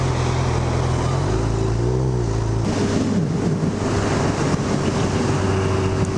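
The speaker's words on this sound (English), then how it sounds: "This bike sounds gorgeous." A Honda CB1000R motorcycle engine drones steadily while riding at speed, heavy wind rush over the microphone and the engine note shifting as the throttle changes.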